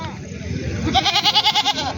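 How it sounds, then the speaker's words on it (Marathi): A goat gives one loud, wavering bleat up close at a busy rural goat market in Maharashtra, with people talking and crowd murmur underneath. "शेळ्या पण आहेत आणि बकरी पण आहेत"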